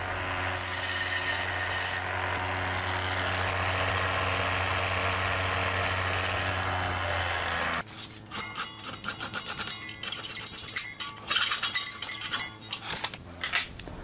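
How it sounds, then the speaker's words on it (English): A short metal tab for a putty smoother being ground on a motorized grinder with a steady whining hum, then worked by hand with a file and sandpaper in uneven rasping strokes. "Then grind, file, and sand until it's smooth, burr-free, and proud."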